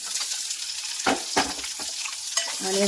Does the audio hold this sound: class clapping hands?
no